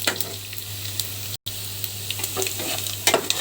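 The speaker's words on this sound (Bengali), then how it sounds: "এখানে ফোড়নটা ভাজা হয়ে গিয়েছে, আমি এবার পাঁচফোড়নটা দিয়ে দিব। এটা একটু ভেজে নেব সুন্দর করে।" Panch phoron spices frying in oil for a dal tempering, a lively close crackle and sizzle with spattering pops, interrupted by a brief silent gap, then busier popping toward the end.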